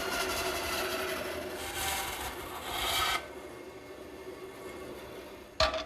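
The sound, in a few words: bandsaw making a rip cut in a rafter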